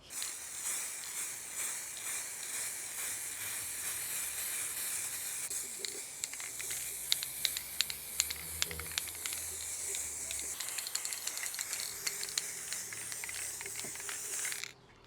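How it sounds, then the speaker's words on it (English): Quick-drying clear lacquer sprays from an aerosol can in a steady, close hiss lasting about fourteen seconds, with faint clicks and rattles near the end. "Never used spray lacquer before."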